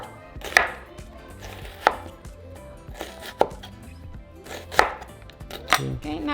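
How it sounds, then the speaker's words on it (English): A knife chops an onion into half moons on a cutting board, with sharp, irregular cuts spaced about a second apart that stand out clearly over quiet kitchen background. "first we're going to chop our onion into little half moons"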